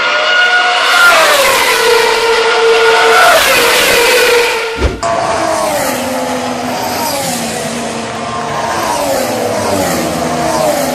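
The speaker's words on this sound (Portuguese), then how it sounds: "se liga na diferença entre um motor e outro, visto diretamente da arquibancada" Formula 1 cars from the 2014 season race past a grandstand, loud high-pitched engine whine rising and falling, with a brief thump midway before another car's engine note takes over.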